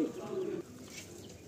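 A pair of Madrasi breeder pigeons coo nearby in low, rolling notes, loudest at the start, then fade under faint background sounds.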